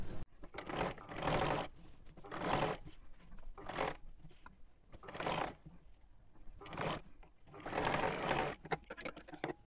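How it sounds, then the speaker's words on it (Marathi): Close, loud bursts from a sewing machine stitching around a kurti neckline with its lining tucked inside, running in repeated stretches with short pauses between them. "आता इथे एकदम कडेकडेला आपल्याला शिलाई करून घ्यायचं आहे।"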